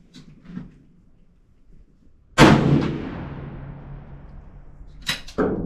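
One loud, close rifle shot from a Savage Model 219 firing a 30-30 Hornady soft point bullet at a shooting range, with a long echoing decay and a second sharp report near the end.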